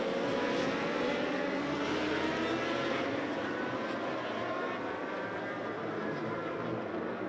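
Racing superbikes at the Imatranajo IRRC road race roar past in a continuous loud engine wash, high-revving tones sweeping and fading as the pack crosses the line, with no voices over it.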